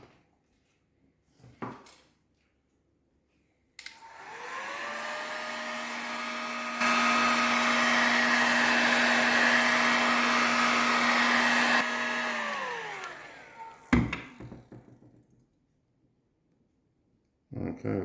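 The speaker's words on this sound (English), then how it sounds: "So I'll take that up and heat shrink that." A heat gun blows hot air to shrink heat shrink tubing over beads and hook while rigging a jet head fishing lure, a steady loud whooshing roar lasting about nine seconds, with brief clicks and handling noises before and after.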